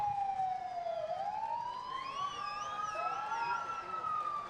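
Vancouver police car siren wailing steadily at a parade, sweeping up and down in loud, continuous cycles with other siren tones overlapping and crowd noise beneath.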